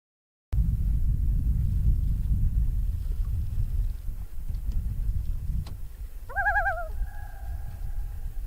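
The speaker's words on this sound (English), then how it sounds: "I know I film loons a lot, but I really love them." Common loon on a lake during a canoe trip, giving a wavering tremolo call that rises and then holds a steady tone, clear over a low rumble of wind or motion, with a faint click shortly before.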